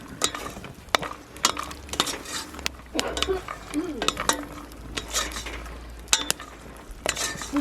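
Peanuts cook in sugar in a pan while being stirred, with repeated scraping and clinking of a utensil over a soft sizzle, close and moderately loud, and quiet speech underneath.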